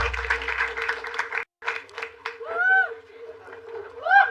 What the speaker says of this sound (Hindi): जोरदार तालियां for Karan Shah